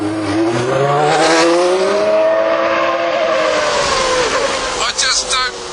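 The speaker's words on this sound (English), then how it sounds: "I am in Alain Prost's 1990 World Championship winning Grand Prix Ferrari." Alain Prost's 1990 World Championship-winning Ferrari Grand Prix Formula One car drives at speed, a loud, continuous high-pitched engine howl whose pitch climbs and sweeps through gear changes, close and dominant throughout.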